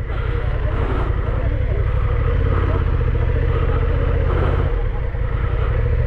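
Many motorcycles at a bike gathering make a dense, continuous engine drone and idle rumble close by. Occasional revs rise above it, with voices in the background.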